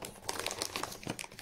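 Plastic treat bag crinkling as a young Great Spitz (Großspitz) puppy grabs it: a brief burst of dense, close crackling and rustling with no talk.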